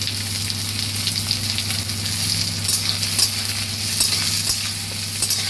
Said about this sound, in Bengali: এবার আমি পেঁয়াজটা দিয়ে দেবো এর মধ্যে।